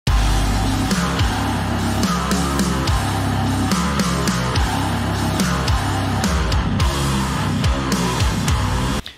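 Heavy metal playback in a very low drop C tuning, with dense, loud distorted guitars, booming low end and pounding drums throughout, no talking.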